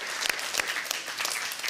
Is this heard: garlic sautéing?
no